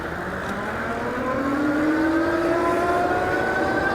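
A Buzz Beekeeper cargo electric bike speeds up on thumb throttle, its motor giving a steady, rising whine that climbs smoothly in pitch over a constant rush of wind and road noise, with no voices.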